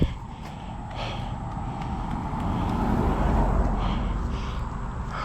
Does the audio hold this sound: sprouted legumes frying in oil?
no